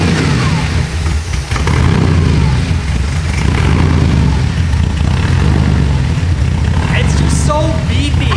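A Porsche engine idles close by with a loud, steady, beefy rumble that holds an even rhythm throughout, with only slight wavers in level.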